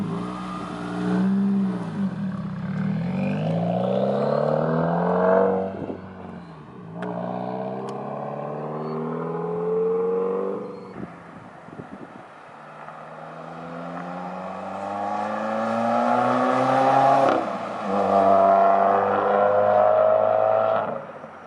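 A Subaru WRX with a Remark axle-back exhaust being driven, engine repeatedly revving up through the gears with a loud, raspy exhaust note, rising and falling pitch between shifts, heard from inside the car.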